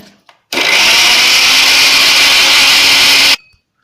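An electric blender grinding hibiscus flowers for hair oil, switching on abruptly to a loud, steady high whir that holds for about three seconds before cutting off cleanly.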